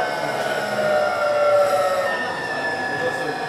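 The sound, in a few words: electric train traction motor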